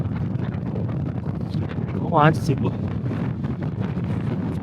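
Steady, strong mountain wind roars and buffets the microphone throughout while climbing Mount Fuji, with a person speaking briefly over it midway.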